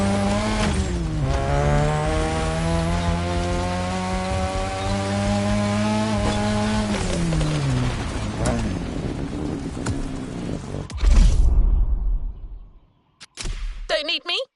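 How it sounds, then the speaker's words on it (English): A Nissan Skyline GT-R R34 in The Crew Motorfest roars loud and steady, its engine note rising through the revs for several seconds before cutting off abruptly, with a brief burst of noise and a few clipped sounds at the end. "The R34 you're about to drive is a worthy descendant"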